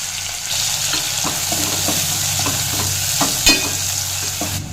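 Chopped onions sizzle and crackle steadily in a hot pan, with occasional stirring scrapes and a brief clatter near the end.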